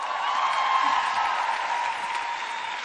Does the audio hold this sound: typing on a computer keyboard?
no